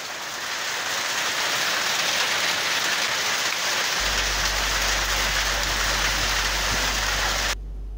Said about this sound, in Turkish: İşte o yağmur manzarası.